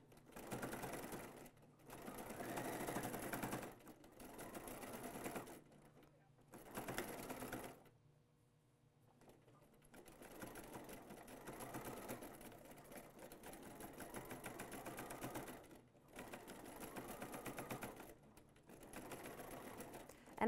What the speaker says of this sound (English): Just down in the bottom section, I'm just sewing right around them so they stay in place.